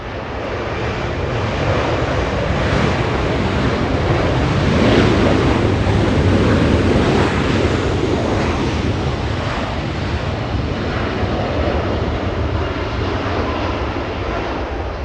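Two airliners at Los Angeles International Airport, one departing and one arriving, create a loud, steady jet roar lasting throughout, swelling slightly midway with broadband rushing and wind buffeting on the microphone.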